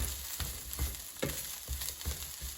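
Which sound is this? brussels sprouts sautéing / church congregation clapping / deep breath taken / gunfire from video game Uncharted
brussels sprouts sautéing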